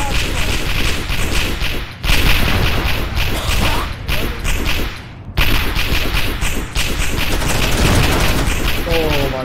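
Heavy gunfire fills an Arma 3 Warhammer 40K battle against a Genestealer swarm: dense, rapid cracking bursts and whipping shots keep going almost without a break, with brief gaps, loud and close, while people talk under and between the volleys.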